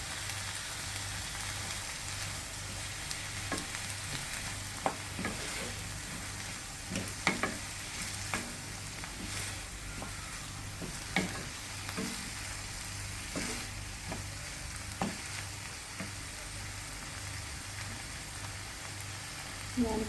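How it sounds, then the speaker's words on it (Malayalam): Onion, ginger, green chilli and garlic sauté in a hot pan, a constant soft sizzle dotted with scraping stirs and small pops, with no voices. "സവാളയും ഇഞ്ചിയും പച്ചമുളകും വെളുത്തുള്ളിയും നല്ല രീതിയിൽ വഴറ്റിയെടുത്താൽ"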